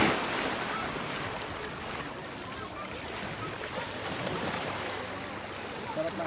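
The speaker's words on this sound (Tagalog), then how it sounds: "Sarap ng alon pa." Sea waves washing near a clear-water swimming spot, a steady broadband rush of surf with wind buffeting the microphone, close and continuous throughout, with voices faintly present.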